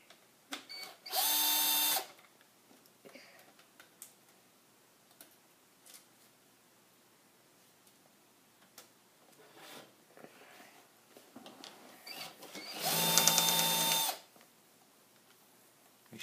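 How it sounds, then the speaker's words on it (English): A power screwdriver backs out the bottom two screws of an HP DV6-1375dx laptop screen, with two loud whirring bursts of about a second each, one early and one late, separated by quiet handling clicks. "I'm going to remove the bottom two screws."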